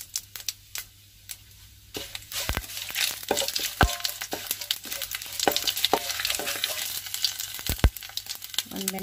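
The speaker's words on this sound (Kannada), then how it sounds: "ಕರಿಬೇವು ಒಣಮೆಣಸಿನಕಾಯಿ ಕೂಡ ಹಾಕಿದ್ದೀನಿ" Curry leaves and dry red chillies with mustard seeds sizzle in hot oil as a tempering for an okra dal sambar. A steady frying hiss is broken by crisp pops and clicks, close up and without speech.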